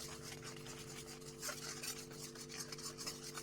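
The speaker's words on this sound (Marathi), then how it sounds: "पाक सतत ढवळत राहायचा आहे." Steady stirring and scraping in a pan of boiling sugar syrup for sesame-jaggery laddoos, a continuous gentle churning with faint clinks of a spoon, close by and alone.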